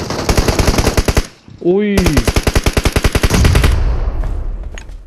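Long bursts of close, loud automatic gunfire in PUBG Mobile, two rapid volleys split by a brief rising electronic chime, the second trailing into a rumbling thud; a voice exclaims once.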